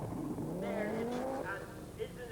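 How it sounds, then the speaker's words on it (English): Audi Quattro rally car at speed, its engine note rising and shifting through revs with a raspy, continuous drone and a brief squeal of tyres, mixed with overlapping voices. "The first car featured is the sensational Audi Quattro."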